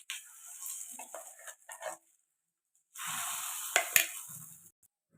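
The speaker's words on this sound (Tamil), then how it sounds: "கடுகு பொரியுது" Mustard seeds popping and spluttering in hot oil for a South Indian toor dal chutney tempering, crackling in two bursts with a short quiet gap between them.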